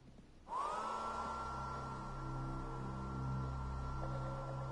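A hairdryer gadget in the video game Payday 2 starts up with a sudden whirring drone that holds steady and loud, a continuous blowing hum with no voices over it.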